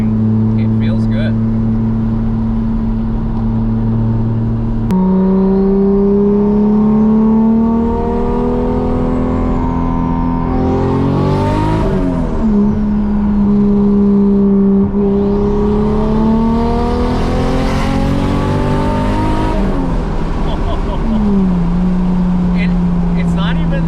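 A Toyota GR86 fitted with a 2JZ inline-six engine drives along with a loud, smooth exhaust drone that climbs and falls through several rev sweeps, the pitch rising on acceleration and dipping at gear changes.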